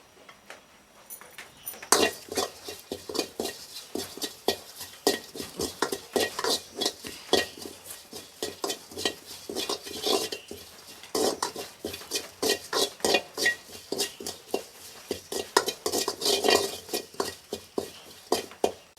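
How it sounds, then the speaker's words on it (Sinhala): Pandan leaves (rampe) frying in a pan, with steady stirring and scraping of a utensil against the metal and a faint sizzle, repeated clinks and scrapes carrying through the whole stretch, near and fairly loud, no voices. "මගේ දැන් රම්ප ටික මේ බදින අතරතුරේ"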